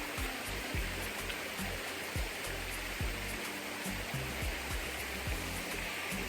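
A waterfall roars steadily in the open, a thick continuous rush of falling water at close range, punctuated by occasional low thumps and bumps, with no voices heard.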